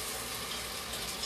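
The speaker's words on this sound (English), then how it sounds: "I'm going to put these frozen vegetables in with this sizzling butter" Dense, even sizzling of frozen vegetables frying in hot butter, loud and close throughout with no voices.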